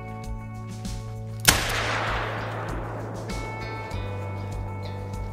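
Single handgun shot in the hunting game Call of the Wild at the Te Awaroa reserve, a sharp loud crack followed by a long rolling echo that fades over several seconds against ambient outdoor game sounds.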